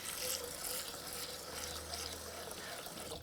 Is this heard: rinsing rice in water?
yes